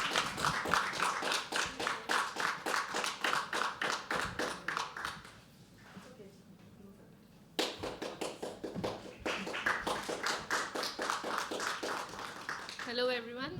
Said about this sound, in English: Can we start clapping for Shruti? Keep clapping, yeah?